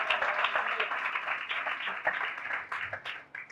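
A church congregation claps loudly and continuously, a dense burst of many hands throughout with a voice speaking faintly over it.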